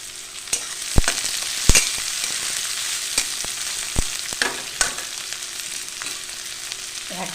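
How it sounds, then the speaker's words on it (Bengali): Onion, green chili, potato, peas and cauliflower fry together in hot oil for a Maggi noodle dish: a steady close sizzle broken by sharp crackles and pops, with no talking. "একসঙ্গে সব ভেজে নেব।"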